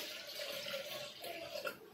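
Water is poured into a cooking pot holding washed plain dal (lentils), producing a faint, steady gurgling stream over two seconds.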